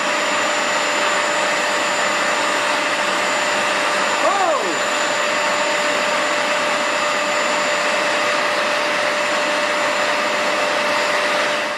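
A Hoover carpet cleaner for pet messes runs with a steady, loud, continuous motor whine and airflow hiss, a brief pitch wobble partway through, with no talk.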